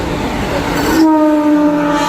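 An express train passes close at a railway station with a loud, rushing rumble, and then a sustained horn tone sounds near the end.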